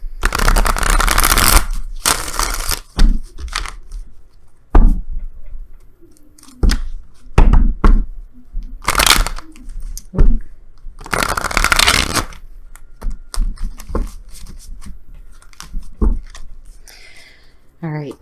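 Oracle cards shuffled by hand for a tarot-style reading, repeated crisp riffling bursts and soft slaps in irregular clusters, close and fairly loud, with quiet gaps between runs.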